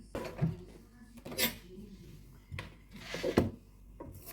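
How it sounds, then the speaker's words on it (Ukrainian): Cut meat pieces tumble into the metal bowl of a multicooker pressure cooker while pilaf is being prepared. Several close clattering scrapes and knocks arrive in short bursts with quiet pauses between them. "висипаю в чашу мультиварки скороварки"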